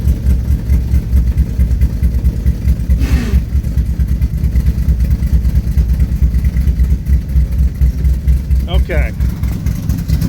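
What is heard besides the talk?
1968 Chevrolet Camaro engine running, clutch pushed in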